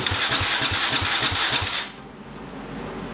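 A turbocharged EFI 660 lawnmower engine runs unevenly with a fast pulsing beat, then its speed drops abruptly after about two seconds and it settles into a quieter hum, with no talk.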